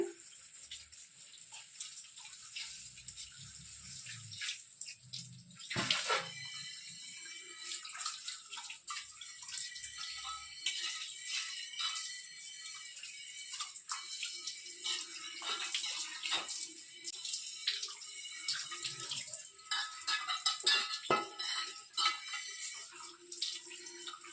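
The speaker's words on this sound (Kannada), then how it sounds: "ಇವಾಗ ವಾಶ್ ಮಾಡ್ಕೊಳ್ತೀನಿ" Tap water runs and splashes while a chapati pan is washed. The flow is steady and close, with a few sharper clatters and gushes as the pan is moved under the stream. No one speaks.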